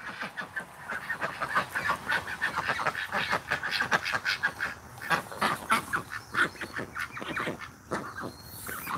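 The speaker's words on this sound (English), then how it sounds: "Yeah, you can hear my ducks quacking" A flock of backyard ducks quacking outdoors, near and loud, with rapid overlapping calls in irregular bursts throughout and no talking.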